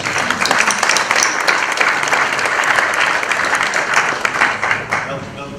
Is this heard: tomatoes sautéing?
no